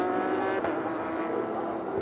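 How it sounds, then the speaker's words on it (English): Porsche Carrera Cup race cars with naturally aspirated flat-six engines of 485 horsepower roar steadily during qualifying at Portimão, a continuous loud engine drone with shifting pitch. "And you can hear the thunderous roars of those naturally aspirated flat six V8s pushing out 485 brake horsepower."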